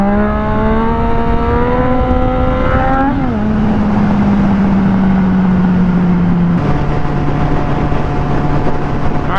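A Yamaha FZ09 motorcycle pulls hard in second gear for a wheelie, its loud engine note climbing steadily, dipping at a throttle change, then holding a high, strained whine, recorded close and with no voices.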